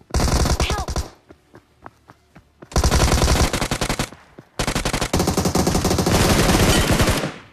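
Loud automatic weapon fire in PUBG / BGMI comes in three long sustained bursts, split by a short run of separate single shots.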